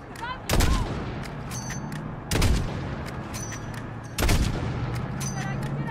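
Gunfire in Call of Duty: Modern Warfare during a desert fight: three heavy, booming bursts land a couple of seconds apart, each with a long rumbling tail, amid constant battle noise and shouted voices.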